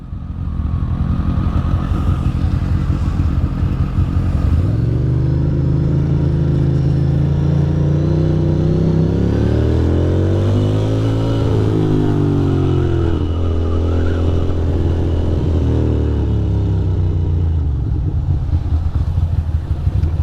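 Motorcycles, including a Ducati Monster 620, ride through New York City traffic, engines loud and close throughout with a steady drone that rises and falls in pitch as the bikes rev and accelerate.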